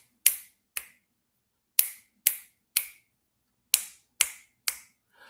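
Eight crisp finger snaps, close and dry, land in an uneven rhythm with short silent gaps between them and no talking.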